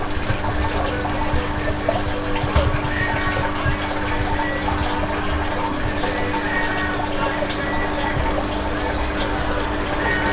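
Rum being bottled, liquid running steadily into bottles with a continuous watery gurgle and churning, close and fairly loud throughout, with faint voices underneath.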